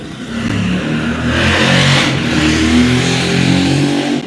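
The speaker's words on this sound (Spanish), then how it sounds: "Una moto ruidosa." A noisy motorcycle passes close by, its loud engine roar swelling and then fading over a few seconds with no talking.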